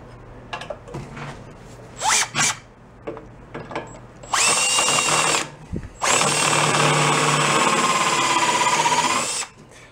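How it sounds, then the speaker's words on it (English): A power drill with a step bit bores through metal while wiring a rat rod quad, starting with short bursts and then two sustained high whining runs, loud and close. "So stepper bit does exactly what it says. It has steps on it. It just keeps opening the sides little by little."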